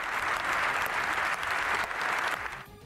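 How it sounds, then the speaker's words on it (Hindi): Members of the British Parliament applaud in the chamber, a sustained sheet of clapping that holds steady and then fades out at the end. "ज़ेलेंस्की के सम्मान में खड़े हुए सांसदों ने देर तक तालियां बजाई।"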